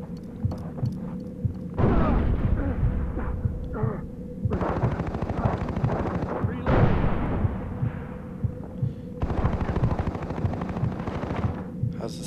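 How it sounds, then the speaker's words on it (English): Rapid gunfire and heavy thuds from a Far Cry 3 firefight with a grenade going off, loud repeated bursts separated by brief pauses. "Lethal fat grenade coming."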